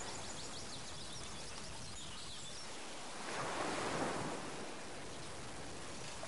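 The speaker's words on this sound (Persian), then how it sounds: "وای بچه ها صدا دریاده." Sea waves heard as a soft, steady roll of surf with faint wind, swelling into one fuller wash midway through, with no voices.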